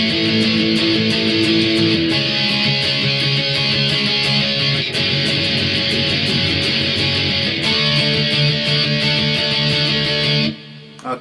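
Guitar chords strummed in a steady down-and-up pattern, loud and continuous, with the chord changing a few times before ringing out at the end; no voices.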